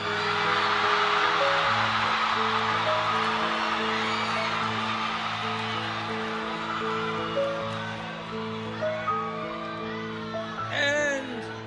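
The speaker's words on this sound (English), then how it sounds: "this is a loud crowd" A loud, dense rally crowd fills the Phoenix Convention Center in Arizona for a Bernie Sanders event, with sustained cheering and whooping that slowly eases toward the end while a voice talks over it.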